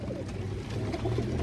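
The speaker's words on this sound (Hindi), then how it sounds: "ये नीचे ही बैठे हुए कबूतर, कुछ कबूतर।" Pigeons coo softly and repeatedly close by, a low steady burble of several birds filling the background without any talk.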